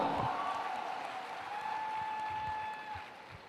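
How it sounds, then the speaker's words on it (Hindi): Audience applause at a Vestige 20th anniversary event, a dense wash of clapping from a large crowd that fades gradually over a few seconds, with a faint sustained tone in the hall. "Come on everyone, जोरदार तालियां"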